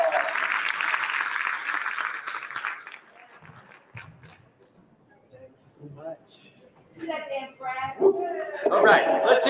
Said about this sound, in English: Let's receive him with a round of applause